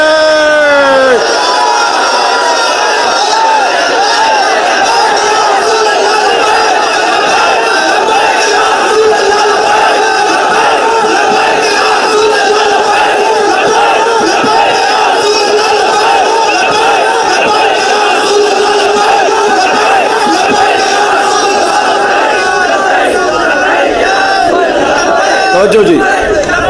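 A large crowd at a Khatm-e-Nabuwat gathering addressed by a cleric chants the slogan Labbaik. Loud, sustained massed voices rise and hold for nearly half a minute.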